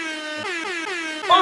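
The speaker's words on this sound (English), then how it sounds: "That gets the air horn, baby." A loud air horn blast with a bright, slightly wavering tone holds for over a second and ends in a short, harsher burst; no one speaks over it.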